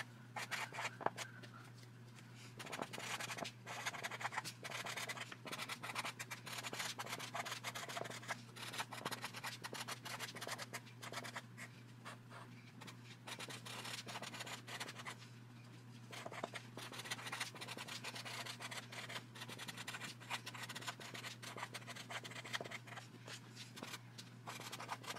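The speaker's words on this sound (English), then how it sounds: "Got my blue Sharpie, and we're gonna write a little thank you note" A blue Sharpie marker writes a short thank-you note for a bracelet order, making continuous soft scratchy strokes over a faint steady hum, close up and with no talking.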